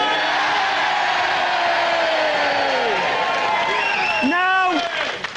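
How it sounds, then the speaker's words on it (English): A TV studio audience at a sports panel show cheers and whoops loudly for several seconds, a dense roar of voices with a few shrill individual yells near the end before it starts to fade. "I want you to cheer if you thought Gary."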